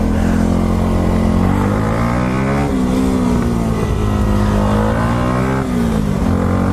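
A Yamaha YZF-R 125 motorcycle revs hard while lifting into a wheelie, its engine note climbing loudly through the gears with rising and falling pitch sweeps, close and dominant throughout.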